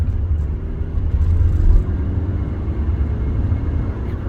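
A modified car engine pulls hard accelerating from 30 to 50 mph on a 50 mph road, a steady close-up low rumble and whir that swells briefly midway.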